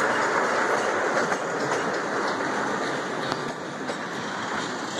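A Class 47 diesel locomotive passes Thorpe Junction, a loud, steady rumble of engine and rolling stock filling the whole stretch with faint rail clicks, close and continuous, with no talk.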